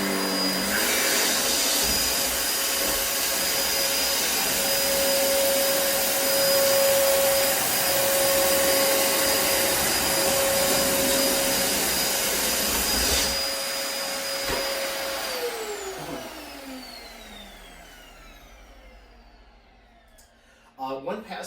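A Dyson DC27 upright vacuum cleaner runs over a floor with a steady, loud whine that continues for a long stretch, then winds down and falls quiet near the end, with a voice talking over it.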